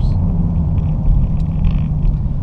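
A 2016 Dodge Charger R/T Scat Pack with the 392 engine rumbles steadily at Texas Motor Speedway, a deep, loud and continuous low growl heard up close with no talking.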